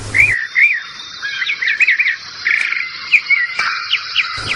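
Small birds chirp and trill in the Pantanal around a flowering tarumã tree, several short bright calls repeating close by over a steady insect hum.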